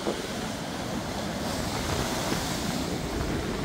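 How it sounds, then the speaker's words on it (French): Storm surge at Cap Couronne near Martigues, waves crashing against the rocky shore under strong wind, a dense continuous roar with buffeting wind noise, close and steady, no talk. "Il y a des moments, il y a vraiment des vagues qui apparaissent au dernier moment."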